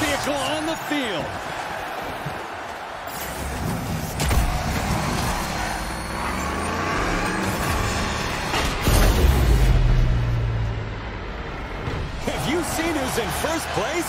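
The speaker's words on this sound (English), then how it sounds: "We've got a hero vehicle waiting in the wings, people. Here it is. Hero vehicle on the field." A hero vehicle rolls onto the arena floor in the video game Destruction AllStars, a loud engine rumble and crunching impacts swelling under energetic commentary and game effects.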